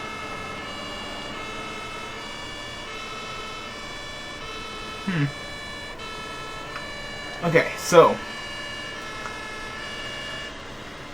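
A steady ambulance siren wails in the video game Emergency 112, tonal and continuous across the whole stretch, with someone talking briefly over it near the middle.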